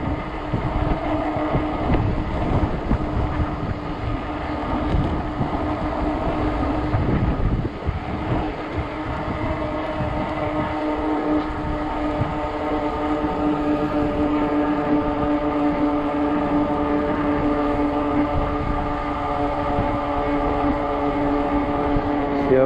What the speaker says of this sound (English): Bucking into the wind, 20-mile-an-hour winds.